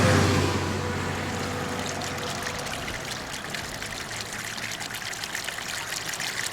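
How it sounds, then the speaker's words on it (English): Well water drains from a fish hatchery pond and trickles out through a culvert under a highway, making a steady, close rushing and splashing flow that holds at an even level throughout. "Well water, draining directly from the hatchery pond where the fish had been raised, trickled out through a culvert under U.S. Highway 101."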